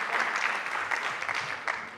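A college policy conference audience gives a round of applause before a tea break. The clapping is moderately loud and sustained, a continuous dense patter across the whole moment.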